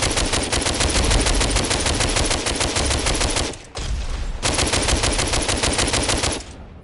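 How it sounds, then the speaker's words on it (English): An assault rifle fires in rapid, continuous automatic bursts in the VR shooter DWVR, loud and close, with a brief gap midway before a second long burst that cuts off near the end. "Assault rifle."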